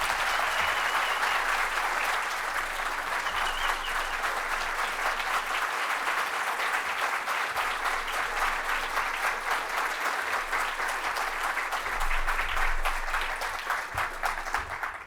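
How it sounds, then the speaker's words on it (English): Sustained audience applause for the governor at an education conference, a dense, even wash of clapping from a large crowd that continues for about fifteen seconds without interruption. "Let's give him a big round of applause."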